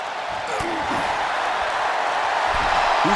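Arena crowd roaring in the WWE 2K24 wrestling video game, a dense, sustained wash of cheering that stays loud throughout, with occasional thuds from the ring and a commentator's voice over it.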